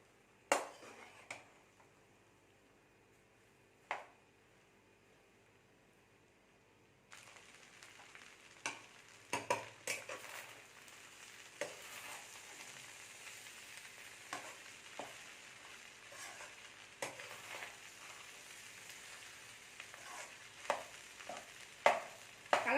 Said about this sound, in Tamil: ரைஸ் உடஞ்சிடாம கிளறுங்க அப்போ தான் இருக்கும் நம்ம வேக வேகமாக கிளறுனா ரைஸ் எல்லாம் உடஞ்சி போயிடும்